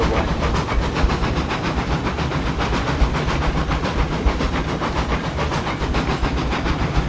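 A locomotive runs steadily in the railroad video game Railroads Online, a continuous hissing rumble with rapid clickety-clack pulses throughout, dense and fairly loud, with no voices over it.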